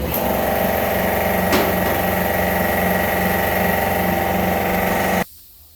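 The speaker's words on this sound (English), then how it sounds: "Compressor kicks on, you're filming." An air compressor in a workshop runs as a loud, steady mechanical drone with a constant hum and vibration, then cuts off abruptly near the end, leaving quiet.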